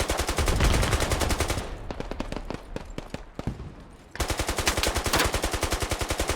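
Gunfire in the video game Squad: long bursts of rapid automatic fire, then a stretch of scattered single shots, then another sustained burst, loud and close with no talking.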